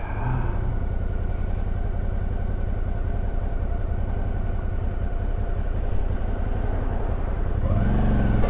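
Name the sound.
car driving past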